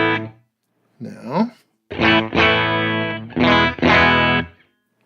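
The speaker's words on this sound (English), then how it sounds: "this amp does a better job of getting more sort of overdrive and clipping out of it if you push the mid-range" Electric guitar through a Showtime '64 tube amp plugin with mids pushed, playing several short overdriven strummed phrases with clipping crunch, separated by brief pauses, with a voice speaking briefly at the start.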